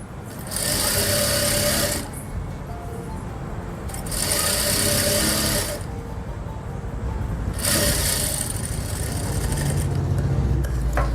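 An electric sewing machine stitches hidden piping onto the side slits and hem panels of a kurti, running in three steady loud bursts separated by short quieter slowdowns, close up.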